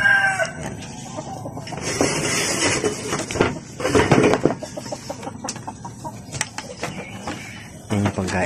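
Chickens cluck and a rooster crows on a rural farm during morning feeding, with layered poultry calls near and far, a voice talking intermittently over them.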